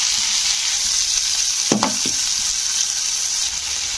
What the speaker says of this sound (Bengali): পেঁয়াজকে এবারে আমি একটু লাল করে ভেজে নেব